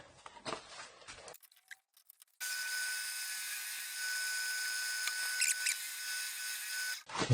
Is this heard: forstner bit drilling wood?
yes